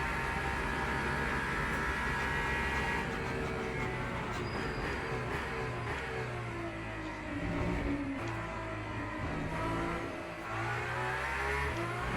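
Hypercar racing engine in the Le Mans Ultimate racing game, roaring steadily and loud throughout, with shifting revs and tonal engine whine as the car chases another, no pauses.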